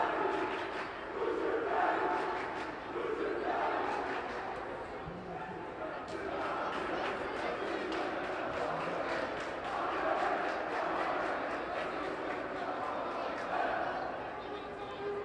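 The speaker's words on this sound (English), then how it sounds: "Really just basking in this incredible performance from the crowd" A high school student section at a Fairfield Prep hockey game chants and cheers loudly, a dense rhythmic roar of massed voices with repeated shouted accents filling the whole span.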